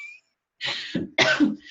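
A woman coughs twice in quick succession, close and fairly loud, with a short earlier burst and a breathy throat-clearing tail, no talking in between.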